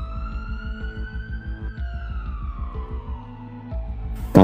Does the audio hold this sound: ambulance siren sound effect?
yes